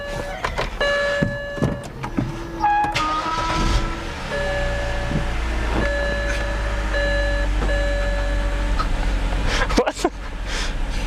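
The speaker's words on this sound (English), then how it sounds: "You can feel that the engine is misfiring right now." A BMW E90 with a misfire from a bad ignition coil: a few electronic chimes sound first, then the engine starts and runs as a steady, close, low idle to the end.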